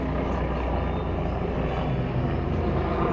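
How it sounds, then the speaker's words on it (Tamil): Helicopter flying overhead near the hills around the Tirumala Tirupati temple, a steady broadband engine and rotor drone, moderately loud, with no talk. "அது பாருங்க மேலே ஹெலிகாப்டர் போயின்னு இருக்கு பாருங்க"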